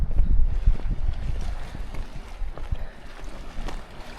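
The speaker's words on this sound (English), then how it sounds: "There's constantly a bit of wind." Gusty wind buffeting outdoors at a wild campsite by the Mediterranean, a loud low rumble at close range that eases slightly toward the end, with no voices.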